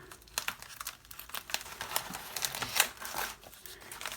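Taped paper on a handmade craft pocket is carefully peeled and unsealed, giving a busy run of close crinkling, crackling and small tearing sounds with no talking.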